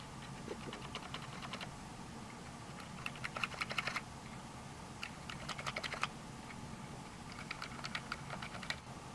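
Key plungers on a Commodore PET keyboard under restoration are pressed one after another, giving bursts of crisp plastic clicks in quick runs separated by short pauses. The clicks are close and moderately quiet, with a low background hum.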